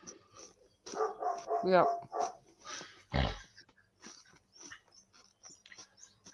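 A dog barks in several loud, close bursts with some growly tones, and a person's voice is heard briefly between the barks.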